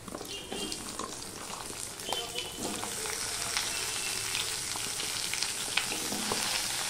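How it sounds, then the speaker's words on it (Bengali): Potatoes fry in a pan as the first step of a vegetarian papaya curry made without onion or garlic, giving a steady, close sizzle with occasional stirring scrapes throughout. "প্রথমে আলুটা আমি দিয়ে দিলাম।"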